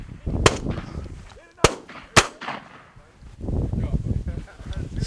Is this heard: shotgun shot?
yes